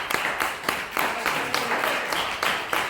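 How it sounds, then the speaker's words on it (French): A café audience claps to welcome a guest, a loose rhythm of close individual claps repeating every fraction of a second, with some background voices mixed in. "Pour recevoir Thierry, on va vous applaudir bien fort"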